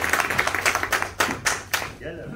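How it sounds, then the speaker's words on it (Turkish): An audience at a real estate training camp claps in a quick burst of hand claps that fades out after about two seconds, followed by a voice speaking. "Kocaman alkışlar size."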